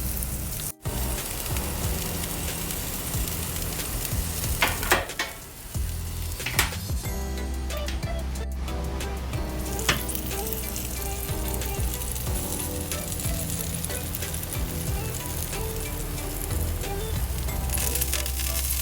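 Wagyu burger patties sear on a grill for smoked burgers, giving a continuous loud, dense sizzle and crackle with scattered pops and a few scrapes throughout.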